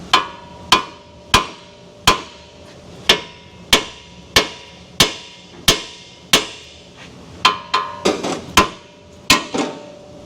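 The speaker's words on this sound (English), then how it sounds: "I'm gonna need to get a hammer action device, linear impact driver" A hammer strikes a car's loose suspension strut assembly again and again, sharp metallic clanks with ringing tails at a steady beat, speeding into a quick flurry of blows near the end.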